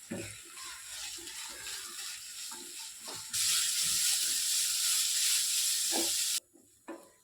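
Sliced shallots and onions sauté with salt in a pan for a beef dish: a steady hiss of frying with scattered scraping and clinking as they are stirred. A louder burst of sizzle swells midway, then drops away abruptly near the end.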